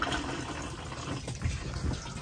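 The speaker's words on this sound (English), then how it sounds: "Once you've finished using the toilet, you then give it another flush by pressing the blue button" Water rushes steadily through the cassette toilet of an Auto-Trail Scout motorhome during a flush, a continuous close gushing wash with a few low thumps.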